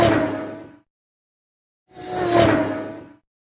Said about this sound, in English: is the sound of a racing car whoosh,